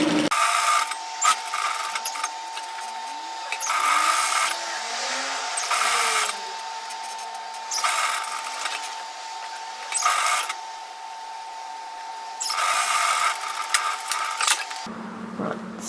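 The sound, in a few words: sewing machine edge stitching with back tacking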